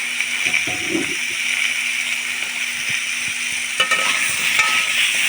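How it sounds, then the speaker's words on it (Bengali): A steady, bright sizzle of raw mango pieces frying in a pan, with occasional soft scrapes and taps of stirring. "কেটে রাখা আমগুলো আমি ভাজতে দিয়ে দেবো"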